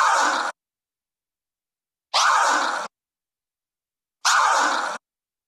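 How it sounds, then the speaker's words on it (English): Three short forward scratches on a turntable record with the crossfader cut in rhythm, each a brief, raspy, vocal-like sweep followed by clean silence. "forward scratch is the first scratch where we combine using the crossfader at the same time as using our record control hand"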